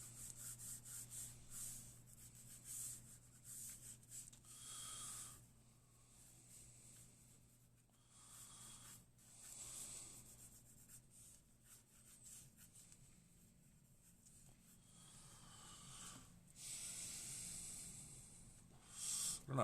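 A red pencil rubs and scratches across paper during a livestreamed drawing session, a steady close, soft hiss of repeated strokes that rises and falls for the whole stretch, with no talking.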